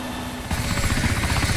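Helicopter engine in the ARMA 2 video game, a steady low rotor throb that jumps louder partway through and keeps running close and continuous, with no talk over it.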